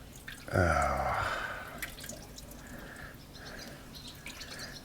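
Water drains and drips from a 70-year-old Caterpillar D4 bulldozer, a steady faint trickle with scattered drips close by; a loud short sound bursts in near the start before fading.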